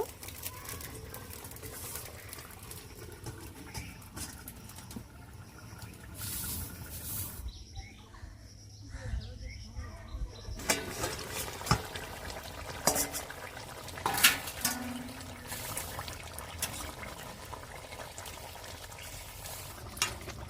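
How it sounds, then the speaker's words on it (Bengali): Rupchanda pomfret fish curry bubbles in a covered pot, with a soft, constant sizzle and simmer that briefly drops quieter midway before resuming with small pops and crackles. "বন্ধুরা তরকারিটা চাপা দিয়ে ভালো করে ফুটিয়ে নেব"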